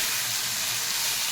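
Vegetables fry in a pan with turmeric and cumin powder, giving a steady, close sizzle that hisses evenly through the short moment with no breaks.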